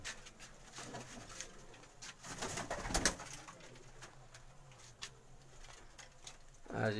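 Pigeons coo on a rooftop in Sheikhupura, with soft repeated calls and a louder burst of cooing midway, set against a low outdoor hum and faint distant voices.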